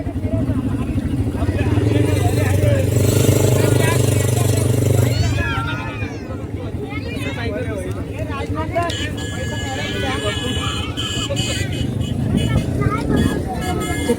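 Heavy Sunday road traffic jams the route near the beach at Alibag, a dense steady rumble of many cars and motorbikes with a louder engine drone early on, under a murmur of nearby voices.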